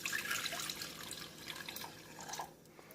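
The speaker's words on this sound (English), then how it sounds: "You want to pour your water in," Water pours from a tap into a pot for lemon sauce, a soft steady splashing stream close by that eases off near the end, with no voices.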